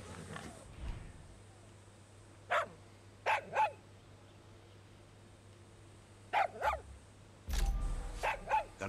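A dog barks in Far Cry 6, sounding as short separate barks in small clusters over a low steady hum, with a louder rougher burst near the end.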